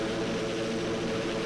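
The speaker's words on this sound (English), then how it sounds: "Probably Sunny's chopper." A helicopter in a flight simulator game, a steady droning rotor and engine whir that stays constant and moderately loud with no voices.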